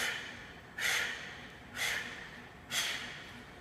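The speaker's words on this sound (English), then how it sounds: "Now you might hear my breathing" Sharp, heavy breaths during push-ups, three distinct forceful exhales spaced about a second apart, close and clear over a quiet background.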